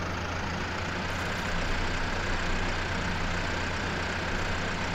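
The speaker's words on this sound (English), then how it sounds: "I think the tractor might actually be louder than the combine" A tractor engine in the Farming Simulator 2015 game drones in a steady, loud low rumble with a constant idling hum, unbroken and alone without any voices.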